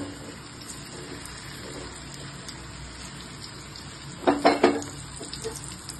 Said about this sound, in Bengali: এবার আমি একে একে ছানার মোদকগুলো ঢেলে মানে ছেড়ে দিচ্ছি ঘিয়ের মধ্যে